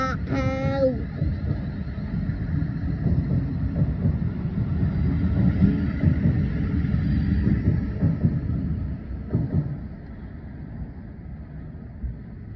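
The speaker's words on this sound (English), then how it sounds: "Departing out now is 700019, working a service to Sevenoaks. Departing Denmark Hill." A Class 700 train, unit 700019, pulls out of Denmark Hill station on a service to Sevenoaks, a steady low rumble of motors and wheels that holds for about ten seconds, then eases off as it moves away.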